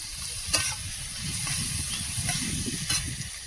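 Chopped tomato hits a pan of chicken curry with salt and turmeric, giving a steady close sizzle with a low bubbling rumble underneath and a few sharp spits and crackles, no voices.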